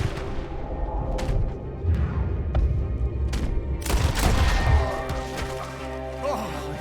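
Gunfire in Red Dead Redemption 2 sounds as a dense barrage, with sharp cracks and booming blasts layered over a rumbling, chaotic fight and a few louder shots standing out.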